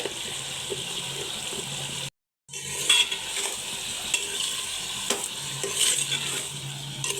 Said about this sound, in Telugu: ఒక వంద గ్రాములు ఆయిల్ వేసానండి వేసి చికెన్ వేసి ఉప్పు పసుపు అల్లం వెల్లుల్లి పేస్ట్ వేసి కలుపుతున్నాను